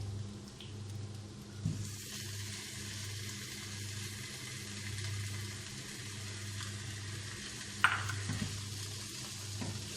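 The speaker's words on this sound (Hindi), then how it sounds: "अब हम इसमें ये अदरक लहसुन का पेस्ट डाल लेते हैं" Ginger garlic paste frying in a pot for masala beef sauce, a soft steady sizzle under a low hum, with a couple of faint knocks from the pan.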